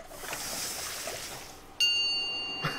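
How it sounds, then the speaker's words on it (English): A bright, ringing bell chimes once in the hidden-object adventure game Mystery Trackers, its clear sustained tone sounding alone over a soft, washing ambient background before briefly sounding again. "I love the bell."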